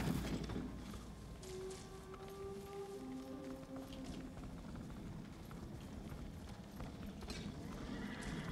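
Horse hooves clip-clop steadily in Ghost of Tsushima while a horse neighs loudly near the start, with game ambience underneath and no talking.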